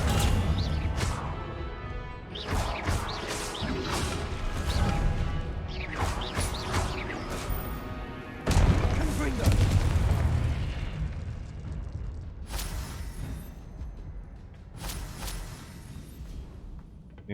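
Confringo blasting spell in Hogwarts Legacy, a run of booming explosive bursts and crashes, with a heavier blast near the middle and further bangs trailing off.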